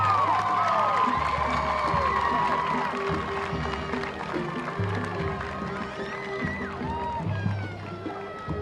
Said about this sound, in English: please give these young ladies a congratulatory round of applause